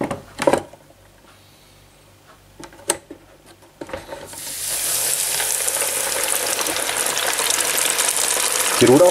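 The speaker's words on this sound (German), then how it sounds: "Die Rotaugen werden jetzt mehr oder weniger so lange im Fett frittiert, bis sie automatisch nach oben schwimmen" Roach fish from the Main river drop into hot fat in a deep fryer after a few clanks and knocks, breaking into a loud, continuous bubbling sizzle that fills the rest of the clip.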